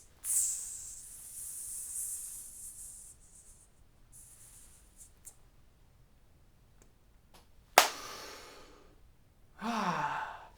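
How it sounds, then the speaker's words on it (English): A steady, controlled hissing exhalation through the teeth as part of a musician's breathing exercise, loud at first and fading over about three seconds, followed by quieter breath sounds and a couple of short breathy bursts near the end. "Hiss."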